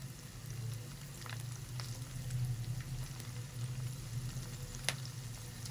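Okra frying in hot oil gives a steady, close sizzle with a low bubbling roar underneath and scattered small pops, no voices over it.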